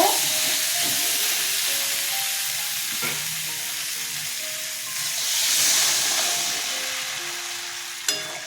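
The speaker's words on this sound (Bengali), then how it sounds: "আমি এখন জল দিয়ে দেব" Spices and potatoes fry in a pan for a Bengali fish curry, giving a loud, steady sizzle and hiss. The hiss swells briefly as water hits the hot oil, and a utensil clinks near the end.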